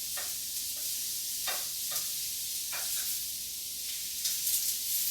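Onions and pineapple sizzle on a grill in a steady soft hiss, with a few brief crackles and pops over a constant frying noise and no voices.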